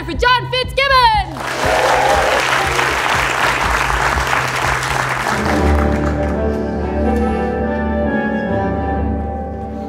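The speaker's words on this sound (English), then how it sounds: "please put your hands together for John Fitzgibbon!" A theatre audience breaks into loud, sustained applause that fills the room, then thins out as music and other sound take over partway through. A voice is heard briefly at the very start.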